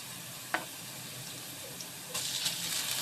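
Potato pieces fry in a ghee and oil mix for a plain khichdi, a soft steady sizzle with a sharp clink early on, then a brighter, louder crackle as frying intensifies toward the end.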